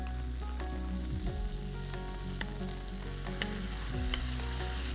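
Masala gravy for tawa paneer, with capsicum, hits a hot pan and sizzles and crackles steadily throughout. Scraping stirs of a spoon come through nearby, with no voices.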